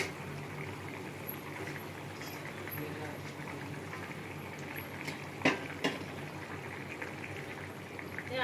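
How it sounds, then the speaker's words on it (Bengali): Fish curry broth with potatoes boiling in a covered pot: a steady, close bubbling hiss runs throughout, broken by a few brief metallic clinks near the end. "আমার ঝোল ফুটে গেছে, আলু সিদ্ধ হয়ে গেছে।"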